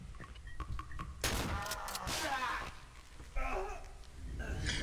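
Shotgun blasts in the horror video game Cry of Fear, two sharp, loud reports with reverberant tails spaced a couple of seconds apart, set against a murky ambient background.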